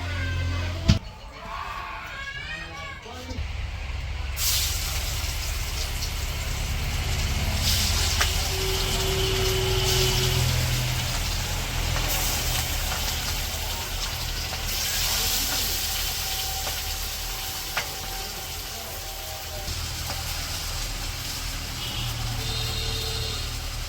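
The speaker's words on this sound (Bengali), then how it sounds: "সরিষার তেল দিয়ে ভাজবো এখন মাছগুলা" Hilsa fish sizzle as they fry in mustard oil in a village kitchen, a steady loud hiss that swells and holds, with faint background voices and occasional clatter.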